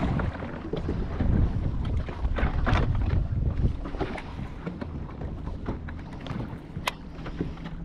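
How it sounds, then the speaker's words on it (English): Breezy wind gusts across a lake during bass fishing in the foothills. The wind buffets loudly and unevenly up close, mixed with faint boat and water noise. "a little breezy out here."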